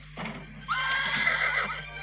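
A horse neighs in an animated cartoon, a single loud, drawn-out whinny that rises and wavers for over a second, heard alone with no talking.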